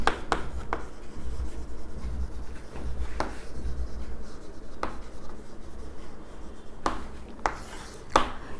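A pen scratches steadily across paper while a double column cash book is written out in an accounting lesson. The strokes sound close and continuous, broken by a few sharper taps and pauses.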